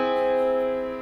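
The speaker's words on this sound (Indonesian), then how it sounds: "Augmented chord bunyinya seperti ini." An augmented chord rings out as a single sustained tone on a keyboard-like instrument, steady and moderately quiet, slowly decaying over about a second with no voices.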